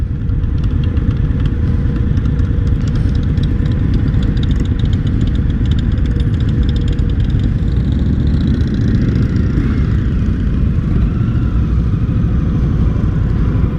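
An Indian Scout 60 motorcycle engine under way, a loud, steady, close rumble holding an even throttle with slight shifts in pitch, mixed with road and wind noise and no voices.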